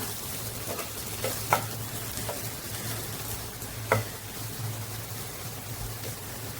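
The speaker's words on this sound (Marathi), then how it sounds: "आता हे व्यवस्थित मिक्स करून घेऊया गॅसची फ्लेम लोच ठेवायची आहे" Okra and potato masala is stirred in a frying pan over a low gas flame, giving a soft, continuous sizzle close by, with a few light scraping strokes of the spoon and no talk.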